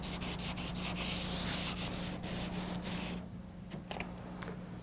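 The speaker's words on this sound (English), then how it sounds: "Now that we're finished sanding the spot and glazing putty" Rapid back-and-forth strokes of sandpaper rasp against body filler and glazing putty on a car body, a steady rhythmic scrubbing that stops after about three seconds.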